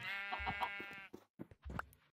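Sheep bleating in modded Minecraft One Block: one long, wavering, clearly pitched bleat, then a few short, clipped bleats close together, loud and near with no talk over them.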